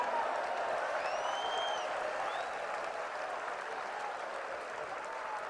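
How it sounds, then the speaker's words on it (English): A large audience bursts into sustained, even applause at a church talk, a dense wash of hand clapping that fades slightly toward the end, with a few faint cheers and a voice beneath it. "Come on, clap your hands"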